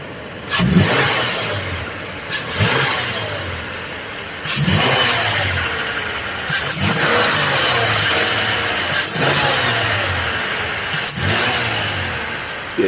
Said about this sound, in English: Yeah, you definitely get a lot more intake sounds.